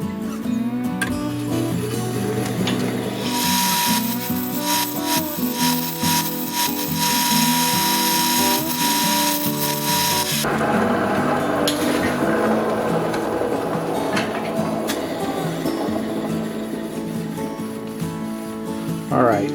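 Black banded agate ground against a 200 grit lapidary wheel, a steady loud whirring grind with scraping texture that runs continuously, shifting in tone partway through as pressure on the stone changes.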